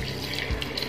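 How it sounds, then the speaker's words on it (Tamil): Water pours into a pot of mutton curry, a short, soft, steady splash lasting about a second. "இப்போ தண்ணி ஆட் பண்ணிக்கலாம்"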